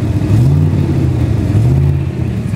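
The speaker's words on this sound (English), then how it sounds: "Now I'll rev up the car again, get the wheels moving." A Holden VK V8 revs hard with the brake held on, a loud, steady, throaty engine drone that rises and dips slightly across the whole stretch, close up with no talking.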